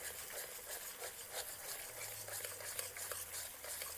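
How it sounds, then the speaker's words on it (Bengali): A spatula scrambles egg with vegetables in a pan for a Maggi noodle dish, giving soft, continuous scraping and light sizzling, quiet and close, with no voices. "এইবার খুন্তি দিয়ে ঠিক এরকমভাবে নাড়তে নাড়তে দেখবেন ডিমগুলো ঝুরো ঝুরো হয়ে যাবে"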